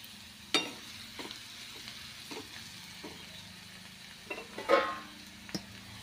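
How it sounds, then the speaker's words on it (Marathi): Chopped onion sautéing in a pan, with a few sharp scraping clicks of a spoon stirring it at irregular intervals over a soft, steady low sizzle. "तर पाहू शकता आपला कांदा छानपैकी परतला गेला आहे।"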